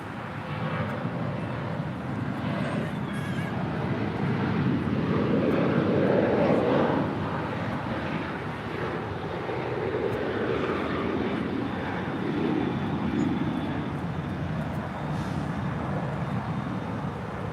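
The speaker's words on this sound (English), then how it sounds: "We do have China Cargo Airlines. It's a 777 heading back to Shanghai." A China Cargo Airlines Boeing 777 taxis at LAX for departure, its jet engines giving a steady low rumble and whine that swells around the middle before easing, heard from a distance and unaccompanied by talk.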